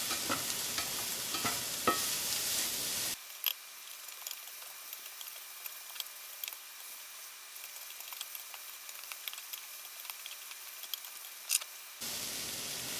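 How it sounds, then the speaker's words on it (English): Peppers for tacos sweat in a pan with a soft, steady sizzle and occasional stirring clicks, quiet and close, with a stretch where the background drops away. "We're just kind of sweating them out so they're not so tough and chewy."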